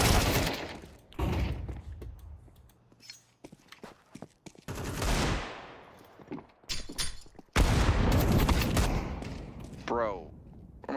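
Video game gunfire crackles in repeated bursts and single shots, loud and close, broken by brief quiet gaps and overlapping with a player's voice.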